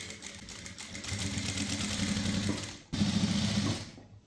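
A sewing machine stitches kurti fabric in a steady, close whirring run, pausing briefly and then resuming for another short burst, with no talking.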